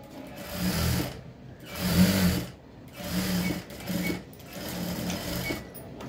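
Sewing machine running in several bursts with short pauses between as a dress is stitched around the arm hole, a close, even motor whir rising and falling in loudness.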